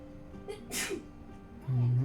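A single sharp sneeze bursts out near the mic during a tabletop-style game session, followed by a brief low voice murmur.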